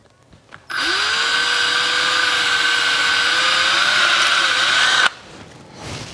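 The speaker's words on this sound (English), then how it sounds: "Now I'm just gonna drill a little hole." A power drill runs loud and close in one continuous burst of about four seconds, drilling a small hole in a wooden birdhouse ornament, its motor pitch wavering slightly, then stops abruptly.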